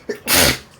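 One loud, close sneeze bursts out after a short intake of breath, sharp and brief in an indoor setting.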